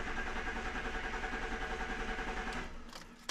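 A BMW E38 with an M52TU straight-six engine cranks over, a steady continuous mechanical churning with no talk, easing slightly near the end before a brief sharp knock.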